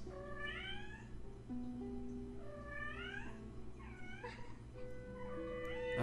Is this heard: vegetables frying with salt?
no